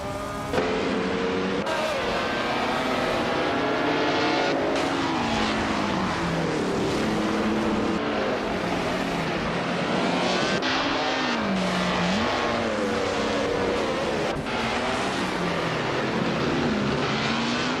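Race cars roaring past in a video game, loud continuous engine whine with rising and falling pitch as several cars shift and overtake.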